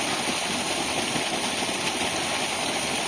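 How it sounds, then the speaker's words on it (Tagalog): A farm water pump engine running steadily after being started with a little water, a continuous near, loud mechanical drone with no pauses and no talk over it. "Pinandar lang, dilagyan lang ng konting tubig ni Kuya Eket. Yan. Umandar na."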